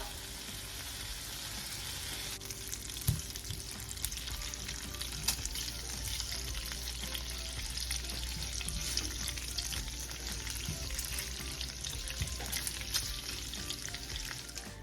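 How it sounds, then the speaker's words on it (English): Bacon sizzles continuously in a pan, a steady crackling fry with occasional light clinks and knocks of utensils, heard close and alone without talk. "get you a pan, throw some bacon in there, let that cook up"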